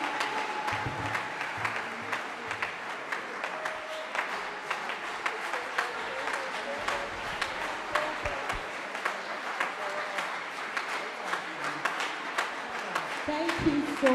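An audience at a university hymns night service applauds in sustained, dense clapping that continues throughout, with a voice speaking over it at times.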